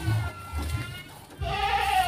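Goats with crested heads, a descendant of the Etawa breed kept as sacrificial livestock, bleat loudly and close by: a low call near the start, then a longer, higher bleat that runs through the second half.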